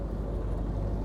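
WW2 Jeep engine idling after a distributor rebuild and timing adjustment, a steady low rumble holding an even level throughout the short stretch with no voices.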